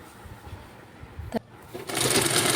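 A sewing machine stitching a blouse, starting with soft handling sounds, then a brief pause before the motor whirs up loud and steady at close range.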